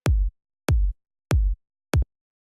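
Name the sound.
strong punchy kick drum sample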